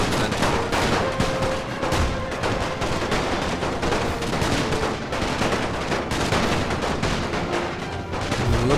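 Continuous gunfire in The Great War mod, a World War I strategy game: dense overlapping rifle and machine-gun volleys crackle steadily and loudly throughout, with no talking.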